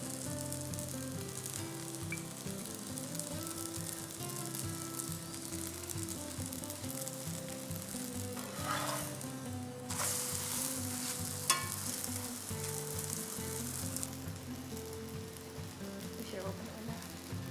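Paratha frying in a buttered pan for an egg paratha roll, a continuous soft sizzle running under steady background music, with a few louder crackling bursts and a brief knock partway through.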